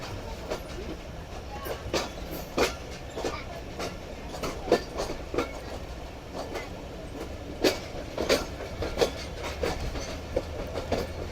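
Jaffer Express train with a Chinese locomotive running at speed, a steady rumble with irregular clicks and clacks of wheels over rail joints, heard from inside the train.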